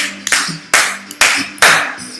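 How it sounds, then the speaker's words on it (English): Fans clap at a Chicago Cubs home game against the St. Louis Cardinals: four loud, evenly spaced claps ring out over faint steady music. "So stomp your feet and clap your hands."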